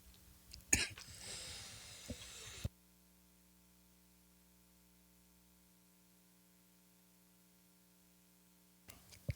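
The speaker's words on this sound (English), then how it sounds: "That cough came out of nowhere." A short burst of coughing close to the mic, followed by several seconds of near silence with a faint steady hum and a small noise at the end.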